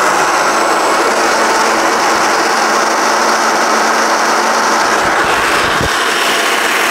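A grinder runs steadily, grinding mango seed kernels into powder for a homemade face mask. The motor whirs loud and constant, with a short dip and a bump near the end.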